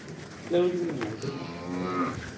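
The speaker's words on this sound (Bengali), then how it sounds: "বিশাল বড় একটা বিগ সাইজ গরু" A big, heavy cow lets out a single long moo, close and loud, with a wavering low tone that swells and then fades.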